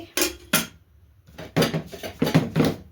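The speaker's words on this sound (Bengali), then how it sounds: "এই যে দুটো থালা নিয়ে নিয়েছি" Plates being handled in a home kitchen while khichuri, papad and eggplant fritters are served for dinner: several sharp clatters and clinks of dishware in separate bursts, close and fairly loud, with no talk.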